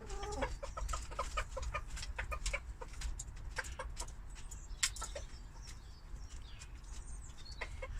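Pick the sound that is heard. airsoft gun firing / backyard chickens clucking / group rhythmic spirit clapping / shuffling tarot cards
backyard chickens clucking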